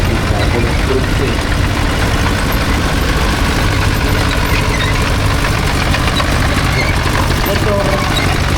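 A Zetor 2023 half-track crawler tractor built for vineyards, hop fields and orchards runs its engine at a vintage machinery show, a steady low rumble that fills the whole stretch with crowd noise and voices mixed in.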